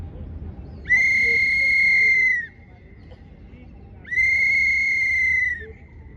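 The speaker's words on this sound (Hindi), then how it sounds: "जो हवाई हमले की सीटी थी वही सेम सीटी होगी।" Two long, steady, high-pitched whistle blasts, each about one and a half seconds, separated by a short pause, sounding an air raid signal during a police or army training drill over a low background rumble.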